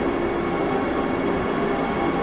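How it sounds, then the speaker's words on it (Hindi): Vande Bharat Express train, number 22301 from Howrah to New Jalpaiguri, running: a steady, loud, continuous rumble of rail travel with no break or voices. "और इसका ट्रेन नंबर है 22301 वंदे भारत एक्सप्रेस।"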